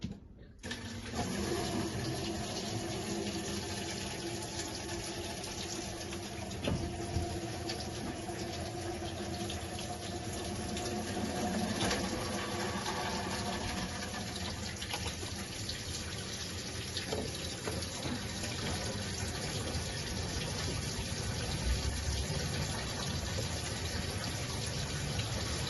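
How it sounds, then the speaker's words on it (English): A hot water tap left running at a home Ideal boiler gives a steady, continuous rush of water, fairly loud and close, with no talking throughout. "just to make sure, I put the tap on,"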